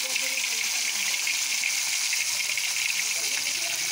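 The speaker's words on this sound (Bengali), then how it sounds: "তাওয়ায় একটু সাদা তেল দিয়ে দিচ্ছি। তেলটা গরম হতে দেব। পিসগুলোকে ভেজে নেব।" Pieces frying in white oil on a hot tawa make a dense, continuous sizzle that stays loud and even, with no voice over it.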